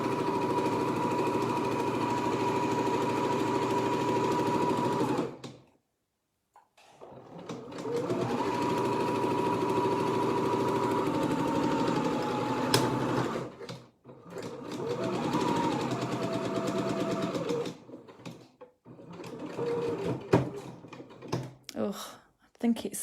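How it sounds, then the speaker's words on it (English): Sewing machine stitching an ironing board cover, its steady whirring run broken by a couple of short pauses and ending in uneven bursts of stitching, loud and close. "Almost feels strange sewing on this machine."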